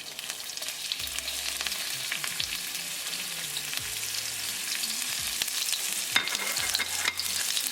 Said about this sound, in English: As the oil start to heat up, add cumin seed, jeera.